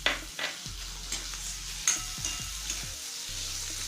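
Chopped tomato fries with onion in a pan while a spoon stirs it, giving a close, steady sizzle broken by repeated scraping strokes against the metal.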